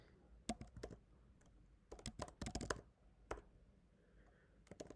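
Close, quiet bursts of keystrokes on a computer keyboard as a name is typed, clustered clicks with short pauses between runs, in an otherwise still room.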